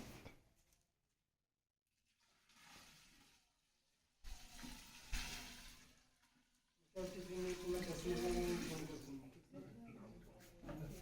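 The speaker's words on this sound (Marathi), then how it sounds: "हा 10 लिटरचा गोमूत्र आपल्याला सर्वात शेवटी यामध्ये ओतून" Ten litres of cow urine pour into a farm slurry mix, splashing and gurgling in bursts with pauses between pours, while people talk nearby.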